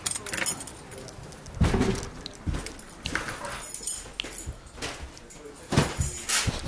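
Metal keys jangle at the entrance to a new workshop, bright clinking bursts repeating a few times up close over faint background noise.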